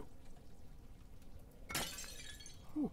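Glass shatters in Amnesia: The Dark Descent, one sudden bright crash with a spray of tinkling shards that fades over about a second, then a short low thud at the end against quiet room tone.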